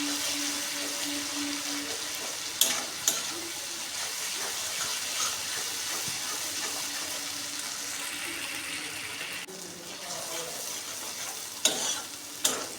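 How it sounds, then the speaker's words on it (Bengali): Spice masala sautéed in oil for egg tarka, a constant close sizzle broken by sharp clinks and scrapes of a spatula stirring in the pan. "তো দিয়ে একটু কষিয়ে নেব পুরো মশলাটাকে"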